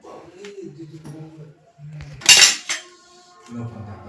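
Pav bhaji plates and vadas handled at a food counter: a few soft clinks and knocks of plates and utensils, with one louder clatter midway, close by and sparse.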